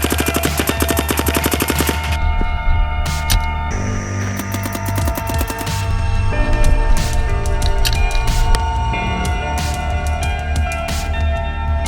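Planet Eclipse GEO CS1 paintball marker firing in fast, steady bursts, a dense rapid string of sharp pops that runs almost without pause, loud and close throughout.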